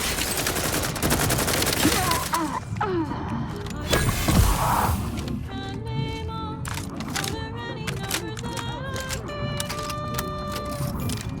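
Bursts of gunfire and fusillades ring out in combat in the video game The Outer Worlds 2, loud and dense at first with a swelling blast near the middle, then sharper intermittent shots over a tonal background.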